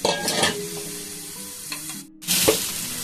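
Cauliflower florets going into a pan of frying spice paste, giving a close, loud sizzle with stirring and clatter, a brief lull, then the sizzle resumes.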